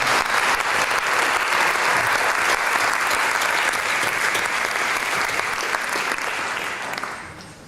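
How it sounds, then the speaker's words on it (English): Dense, loud audience applause at a digital design conference, a sustained wash of many clapping hands that holds steady before tapering off at the end. "So let's give a round of applause for everyone there."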